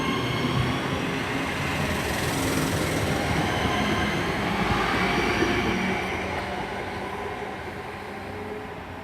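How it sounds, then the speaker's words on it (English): Class 323 passenger train in British Transport Police livery departing Selly Oak station toward Lichfield City, a steady loud rumble of wheels and motors that stays close throughout and eases slightly near the end. "departing out now is 323 Supervisor with the British Transport Police livery heading for Lichfield City"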